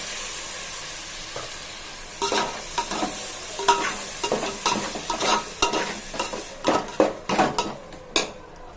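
Onions and tomatoes sauté in a pan for a mutton kuzhambu, with a low steady sizzle broken by repeated scraping stirs and spatula knocks that grow busier partway through.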